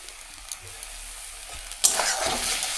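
Curry with chopped coriander leaves being stirred in a frying pan, soft scraping at first, then a louder, steady sizzle and stirring noise for the last second or so.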